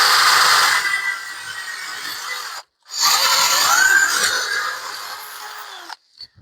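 A power sander works on homemade wooden coasters with a steady, close whirring grind. It cuts out briefly, starts again and runs for several seconds before stopping.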